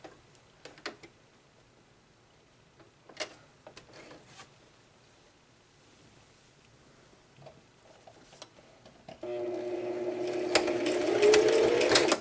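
Sewing machine stitching a cross stitch pillow finish with a fabric panel and ric rac trim, heard first as scattered light ticks and handling clicks, then a steady close mechanical whir that runs continuously through the last few seconds.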